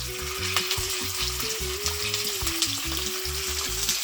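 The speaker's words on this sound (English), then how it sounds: "I'm gonna start adding my fish to the pot" Salmon pieces for a Jamaican dish fry in hot oil in a pot, giving a loud, continuous close-up sizzle and crackle, with background music playing underneath.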